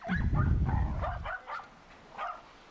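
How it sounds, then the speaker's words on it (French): Dogs playing in the street growl and yip playfully in short vocal bursts, with a low rumbling undertone, fading to a few softer whines. "Deuxième vidéo avec des chiens qui jouent dans la rue,"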